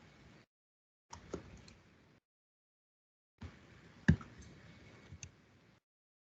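Soft clusters of key clicks from a computer keyboard, in two short bursts of typing separated by silence, quiet and close.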